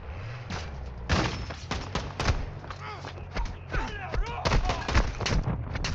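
Video game gunfire crackles in dense, overlapping shots and thuds, fairly close and loud, with voices talking over the battle throughout.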